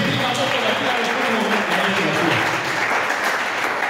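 A church congregation applauds steadily and fairly loudly, a dense wash of clapping that holds throughout with no break.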